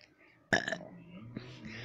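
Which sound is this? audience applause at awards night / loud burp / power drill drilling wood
loud burp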